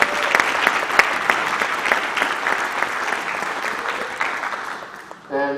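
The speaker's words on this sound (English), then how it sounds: "So a quick applause for Laura DeSoto and Sarah Robinson for our co-presidents." Sustained audience applause at a Newport Harbor High School hall of fame ceremony, a dense steady clatter of many hands that fades gradually, with a brief voice at the end.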